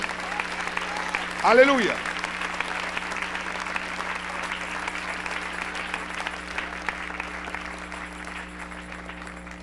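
A church congregation claps continuously in a dense, even wash of applause that lasts the whole stretch, while a single voice calls out briefly near the start.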